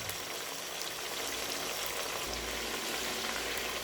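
Pieces of pork frying in hot oil, a soft, steady bubbling sizzle at moderate volume, close by and continuous, with no voices.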